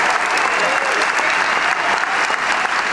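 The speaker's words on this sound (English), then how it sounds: "Give them a round of applause." Dense, loud audience applause for couples, a continuous roar of many hands clapping together without a break.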